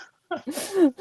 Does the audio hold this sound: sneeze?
yes